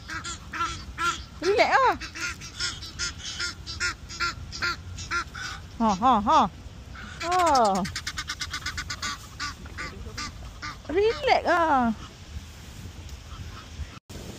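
Geese honk in loud, repeated bursts at a London park, the calls rising and falling near the listener, while a person speaks briefly between them.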